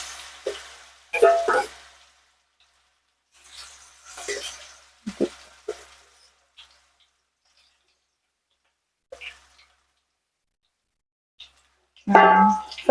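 Battered bitter gourd slices fry in hot oil, giving short bursts of sizzling and bubbling that fade between stirs, with a louder crackling burst near the end and long quiet gaps in between.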